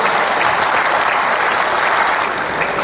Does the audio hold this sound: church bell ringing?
no